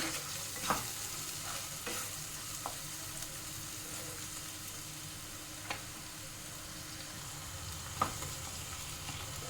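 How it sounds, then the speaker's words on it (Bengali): Onion-tomato masala with turmeric frying in a pan for palak paneer, a continuous close sizzle with occasional sharp spatula knocks against the pan, no one speaking. "3 থেকে 4 মিনিট একটু কষিয়ে নেব।"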